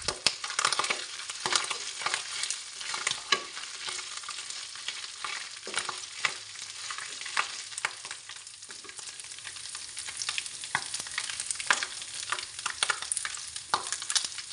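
Cinnamon and cardamom fry in hot oil for a chalta pickle, a continuous close crackling sizzle broken by frequent sharp spoon scrapes and stirring knocks against the pan, no talking.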